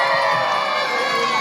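A crowd at the Super Sireyna 2024 pageant's national costume segment cheers and shouts, a loud, steady roar of voices with no break.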